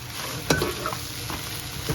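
Roadside-style mushroom dish cooking in a chilli sauce sizzles in a pan while being stirred, with a couple of sharp scraping clinks from the spatula over the steady close fry hiss.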